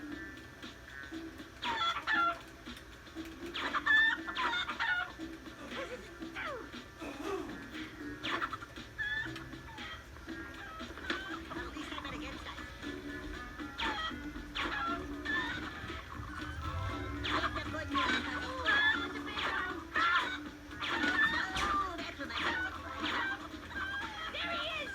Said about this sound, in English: the chicken noise is just getting annoying for you viewers